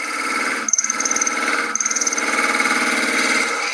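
Beading tool cutting into a spinning wooden tippe top toy on a lathe, a steady high scraping whine with two brief breaks where the cut is lifted and resumed.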